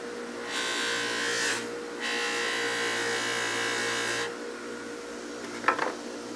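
A motorized polishing wheel in a shop is being redressed, with a steady high motor whine broken by two louder bursts of abrasive grinding and a faint click near the end.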